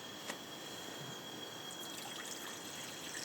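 Water pours into a pot for boiling at a riverside camp during a winter steelhead raft trip, making a quiet, continuous trickle and fill sound close by, with no talk.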